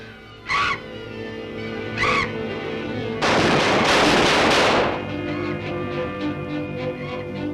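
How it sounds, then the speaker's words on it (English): Gunshots are fired at a killer bat in a 1940 horror film: two sharp reports in quick succession, then a longer loud burst of blasts lasting over a second, over a sustained musical score. "Quick, shoot it!"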